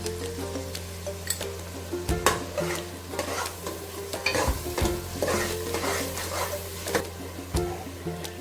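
Onion, tomato paste and green masala paste fry and get stirred in a pan for crab masala, a close sizzle broken by repeated scraping spoon strokes and a few knocks against the pan.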